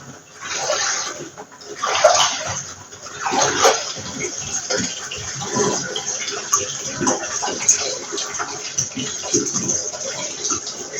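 Water runs in a bathroom as a steady broadband rush with uneven surges, filling most of the span at moderate level; faint murmurs sit beneath it.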